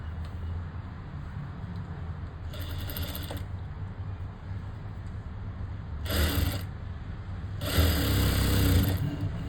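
A sewing machine stitching a plain blouse runs in three short bursts of rapid mechanical whirring, the last one longest and loudest, separated by quieter pauses with a low background hum.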